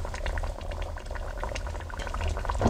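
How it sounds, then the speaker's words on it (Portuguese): Pork bifanas simmer in a seasoned sauce in a pan, giving a continuous close bubbling and gentle popping that holds steady throughout. "Elas agora vão cozer aqui neste molhinho"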